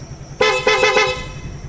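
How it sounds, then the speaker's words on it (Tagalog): A Yamaha Fazzio scooter's horn honks in a few short, loud blasts close by, then stops, leaving low background rumble. "Tapos busina, ito naglagay tayo busina."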